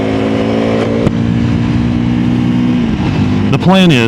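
A Honda CRF300L with supermoto wheels runs loud and close on a test ride, its engine droning steadily and then revving up sharply near the end.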